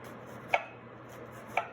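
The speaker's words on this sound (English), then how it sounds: "We're going to take this red onion, I'm going to cut it into a half and then another half" A knife slicing a red onion thin on a cutting board gives two crisp, separate chops about a second apart against a quiet kitchen background.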